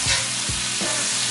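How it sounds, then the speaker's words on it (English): Garlic sautéing in a pan over an open campfire, a steady close sizzle with a few soft stirring scrapes through the short burst. "Now you really have to watch the garlic because you don't want it to burn."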